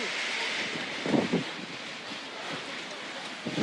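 Whirlwind winds tear across house roofs during heavy rain in Samarinda, a steady broadband roar of wind and rain with a few gusty surges, loud throughout with no clear speech.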